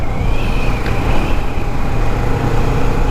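A Kawasaki Vulcan S Cafe 650cc cruiser motorcycle on a test drive gives a loud, steady engine drone with heavy road and wind rumble and a constant high whine layered on top.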